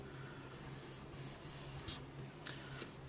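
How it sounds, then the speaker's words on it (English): Faint scratchy rubbing as glue is spread on paper while a slimline card envelope is assembled, with soft brushing strokes up close and no talking. "Just adding a little bit of glue."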